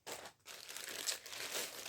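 Tarot cards being shuffled and pulled, giving close crinkling, papery rustles and slides that come in short continuous bursts after a brief pause.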